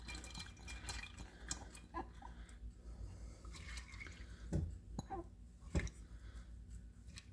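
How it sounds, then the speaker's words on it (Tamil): Dal soaking water is poured into a pressure cooker, a quiet steady trickle and splash with scattered drips, heard close and faint with no talk. "அந்த தண்ணியே நான் அப்படியே ஊற்றிட்டேன்"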